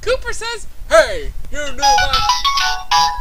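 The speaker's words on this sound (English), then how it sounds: "That was my phone, I'm sorry." A mobile phone ringtone plays as a bright melodic electronic tune with repeated tonal notes, loud and close, over and between a man's speech.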